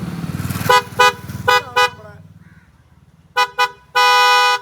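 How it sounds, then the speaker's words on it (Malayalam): Horn of a 2024 Maruti Brezza sounding in several close, loud toots: a few short bursts, a pause, two quick blasts, then one longer sustained honk. "പിന്നെ നമ്മുടെ ഹോൺ"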